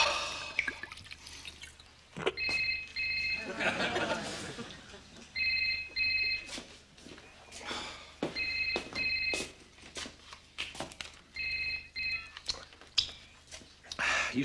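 A telephone rings in short double bursts, four separate rings spaced a few seconds apart, with clattering and speech-like noise in between.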